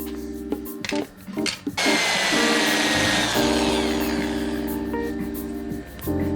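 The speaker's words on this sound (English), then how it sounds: "It's got a little power ball on the old power drill there." A power drill spins a polishing ball against a car's plastic indicator cover, the buffing whine starting after a few clicks and running loud and steady to the end.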